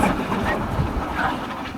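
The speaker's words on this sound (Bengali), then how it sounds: "সিরাজগঞ্জ এক্সপ্রেসে সাইড দেওয়ার পর আমাদের ট্রেনও চলা শুরু করছে" The Dhumketu Express passenger train runs on rails between Dhaka and Sirajganj, a low rolling rumble with a soft, rhythmic clatter heard from on board.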